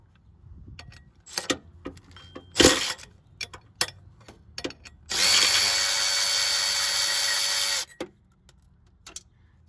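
Bolts come off a water pump on a 3.3/3.8 L Dodge Chrysler minivan, with scattered ratchet clicks and metallic clanks, then one sustained whirring run of a powered tool lasting a few seconds.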